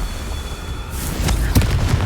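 A Confringo spell bursts in Hogwarts Legacy, a loud, deep booming blast swelling in after a quieter lead-in, with rumbling low end and crackling debris.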